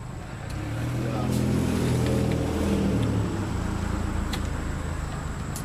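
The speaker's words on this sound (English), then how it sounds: "man, I wish they'd fix the exhaust on that truck." A truck with a faulty exhaust rumbles past with a low, throaty engine roar that swells and fades over several seconds, with faint talk in the background.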